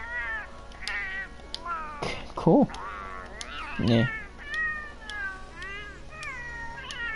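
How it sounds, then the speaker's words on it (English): A cat voice option in the Monster Hunter World character creator gives a string of close, clear meows and short yowls, with a person speaking briefly underneath. "There's a voice for a cat."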